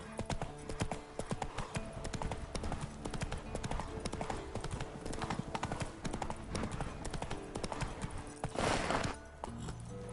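Horse hooves clip-clopping at a steady gallop in The Witcher 3 on PS5, a continuous dense run of hoofbeats under game ambience with a brief louder swell near the end.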